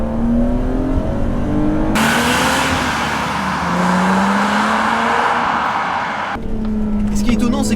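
A BMW Z3 M Coupé with its 321 hp straight-six revs hard in third, drops to second and climbs again, a loud close engine note rising and falling through gear shifts, with someone talking over it.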